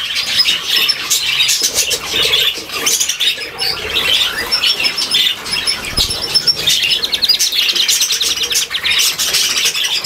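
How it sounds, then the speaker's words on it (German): A budgerigar chirps and chatters nonstop indoors, close and loud, with dense, quick twittering and squawky notes and no talking. "Jetzt bist du wieder richtiger Maxi-Vogel"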